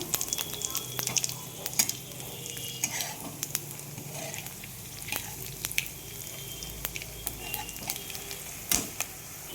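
Spices crackling in hot oil in a pan with browned onion and green chillies, tempering for a Bengali mixed vegetable curry; a steady close sizzle with scattered sharp pops and clinks throughout.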